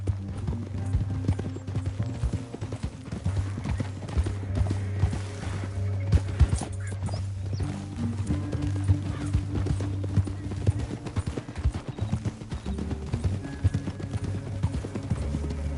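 Steady rhythmic hoofbeats of horses galloping in Red Dead Redemption 2, continuous and fairly loud, with faint game-style ambience underneath.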